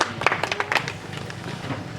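Scattered clapping from an audience at a Hindi poetry recital (kavi sammelan), a few distinct claps in the first second that thin out and fade to a quiet hall.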